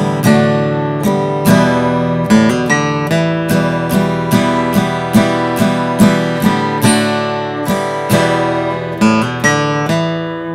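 Acoustic guitar playing the intro to a song, with downward-picked chords and single notes in a steady repeating pattern, clear and close with no voice.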